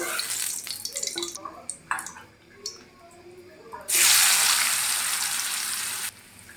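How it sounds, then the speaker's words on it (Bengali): Cut jackfruit seeds drop into hot oil in a wok and burst into a loud, steady sizzle after some softer clatter and handling sounds, the frying hiss filling the last few seconds close up. "এখন আমি যে কাঁঠালের বিচিগুলো কেটে গেছি সেগুলো এখন আমি তেল দিয়ে দেবো"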